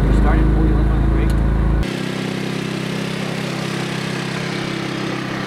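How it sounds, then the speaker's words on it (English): A car engine catches and settles into a steady running rumble, loud and close, after an initial heavier cranking burst, with talk in the background. "Turn that clockwise until and hold it until you hear the engine start"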